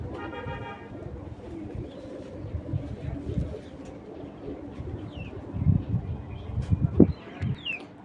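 Racing pigeons coo in low, throaty bursts at close range, swelling louder toward the end over a steady background murmur, with a brief honk-like tone near the start.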